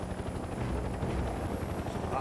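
Helicopter chopper in Mercenaries 2, a dense, continuous rotor thrum and rumble that stays loud and near for the whole stretch, with no clear talk over it.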